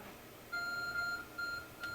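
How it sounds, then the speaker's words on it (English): A glowing phone item in Pokémon Legends: Arceus emits repeated electronic beeps, a soft pulsing pattern of tones at low volume with brief gaps between groups. "There's a glowing, beeping object over there."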